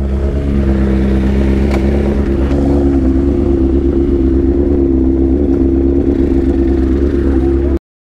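Motorcycle engines idle and rev nearby in a steady, loud drone as a group of riders prepares to set off, with a brief voice over the engine noise before it cuts off.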